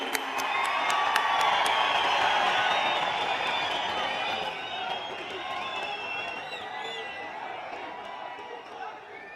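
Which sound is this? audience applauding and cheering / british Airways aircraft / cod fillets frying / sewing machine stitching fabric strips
audience applauding and cheering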